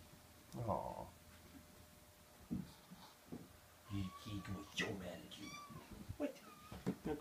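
Playful kittens meowing indoors near a dog, several short high mewing calls scattered among rustling, fairly quiet and close, with a person talking softly in between.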